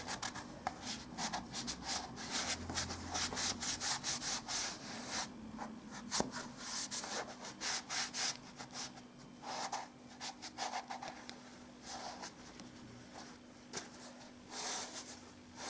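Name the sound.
wiping filler with a damp cloth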